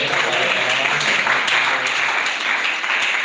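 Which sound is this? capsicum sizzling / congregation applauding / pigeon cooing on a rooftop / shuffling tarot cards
congregation applauding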